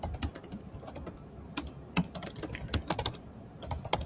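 Someone types on a computer keyboard, a fast uneven patter of light clicking keystrokes with a few sharper taps, close and fairly quiet, with no talking.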